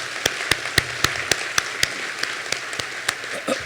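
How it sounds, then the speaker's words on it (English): Sparse applause at a Kirtland Community College commencement ceremony: a few steady, evenly spaced claps ring out in a large hall, faint and thin rather than a full crowd ovation. "if I may have applause for these hardworking individuals"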